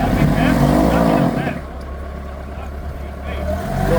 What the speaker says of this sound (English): Sounds like we've got fork truck stuck here.